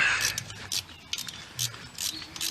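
Bolts go back onto the alternator of a 1.6 VW Beetle, with short bursts of metallic ratcheting clicks close up and quick pauses between turns.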